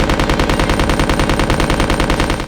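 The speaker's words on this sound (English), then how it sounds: "The thing about Steve firing them is he could also cross the machine guns" Rapid, continuous automatic fire from Steve's crossed dual machine guns in Resident Evil Code: Veronica X, loud and close, with a steady even rhythm of shots running throughout.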